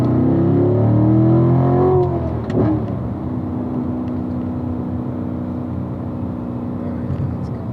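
A car engine revs up during a ride-along to match the selected gear, its note climbing and then dropping within the first few seconds before settling into a steady, close driving drone.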